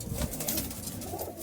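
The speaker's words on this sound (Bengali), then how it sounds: "এই দেখেন একজোড়া পায়রা আপনাকে দেখাচ্ছি" A Rampuri pigeon in a loft coos in low, throaty pulses close by, with faint rustling around it.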